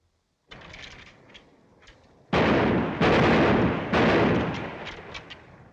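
Gunfire on an army firing range in a 1941 film: distant-sounding shots at first, then three loud, heavy booming volleys with long reverberant tails, with no talk.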